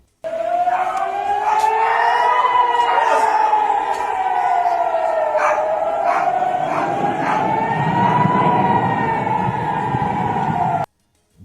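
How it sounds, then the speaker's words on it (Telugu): Air raid sirens wail across Jammu district during a wartime blackout, rising and falling in long tones with several sirens overlapping near and far, and a dog barks faintly underneath. "జమ్మూ జిల్లా వ్యాప్తంగా సైరన్లు మోగించారు."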